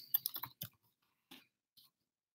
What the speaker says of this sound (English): Typing as I speak here.